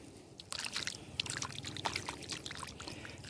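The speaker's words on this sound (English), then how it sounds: "Actually, I'm going to pour that junk off." Dirty water full of ashes is poured and sloshed out of a gold pan, making a soft, continuous trickling splash with small spatters. It is fairly faint and nobody speaks.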